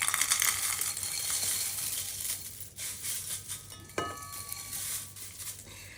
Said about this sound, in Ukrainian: Я висипаю у каструлю чай каркаде